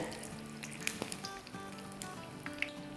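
Dahi bhalla lentil dumplings fry in hot oil, a continuous soft sizzle and bubbling crackle with occasional small pops and a faint clink of utensils, steady and close.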